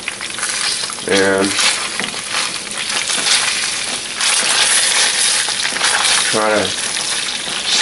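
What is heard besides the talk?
chicken skin bits frying in chicken fat while being turned with tongs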